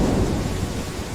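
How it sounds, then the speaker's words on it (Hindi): Heavy rain pours steadily in a thunderstorm over a farming village, with strong wind and a low rumble of thunder filling the whole stretch, loud and continuous with no voices. "तेज हवाएं चलने लगीं और फिर जोरदार बारिश शुरू हो गई।"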